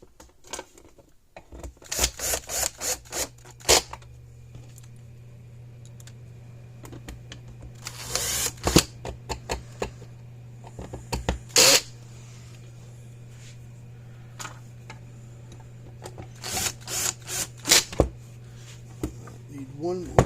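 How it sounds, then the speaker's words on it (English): Screws are driven into the plastic casing of a broken electric fence charger, making repeated bursts of sharp clicking and ratcheting over a steady low hum, with quiet pauses between bursts. "Now we can put the screws in it."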